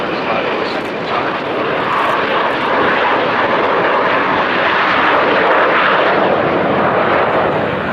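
Avro Vulcan XH558 jet bomber roars loudly and continuously overhead during a solo air display, a dense, sustained engine rumble and howl filling the whole stretch without letup.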